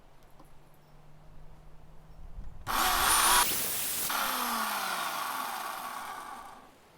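A chainsaw cutting into a walnut blank starts up loud and close, a harsh high whine that holds steady for several seconds before dying away, with a quieter idle hum beforehand.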